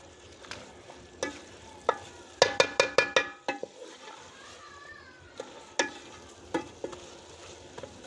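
Cauliflower and potato for aloo gobi fry in spices while being stirred, with sharp scraping knocks of the spoon against the pan, first irregular, then a quick run of five or six strikes, over a low sizzle.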